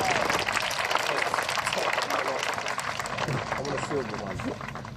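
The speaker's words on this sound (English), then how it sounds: "Round of applause for everyone in the pink t-shirt." A crowd at the Spitfire Scramble 24-hour race gives a round of applause outdoors, broad clapping and cheering mixed with loud announcer speech over a public address system, fading slightly toward the end.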